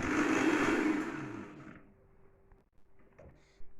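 An electric blender grinds tomatoes for homemade tomato paste, a loud whirring roar for nearly two seconds that winds down and stops, followed by quiet handling knocks.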